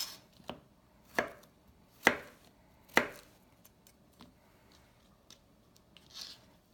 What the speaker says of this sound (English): And this is the way we're cutting our